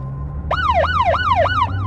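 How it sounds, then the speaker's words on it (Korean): Police siren wailing in rising and falling sweeps, four quick cycles, loud and close, used as a sound effect in a Korean audio drama horror story. "그때 갑자기 뒤에서 사이렌 소리가 들렸다."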